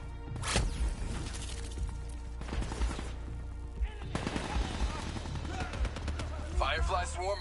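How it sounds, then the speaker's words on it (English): Firefly, a swarm of incendiary nanobots, attacks in a video game with loud sharp bursts, crackling impacts and rapid clatter that come in uneven waves over several seconds. Sparse voice sounds and game noise sit underneath. "Fireflies, a swarm of incendiary nanobots."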